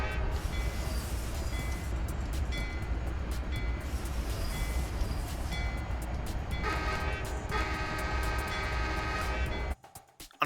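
A CSX train in the Train Simulator video game rumbles steadily across a crossover from one track to another, with a continuous heavy rolling drone and a horn-like tone joining near the end before it cuts off abruptly.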